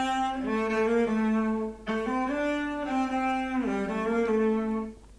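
A held, tonal synth or vocal-like line, treated with real room-style reverb, glides between a few pitches with a smooth, lingering tail that trails off at the end.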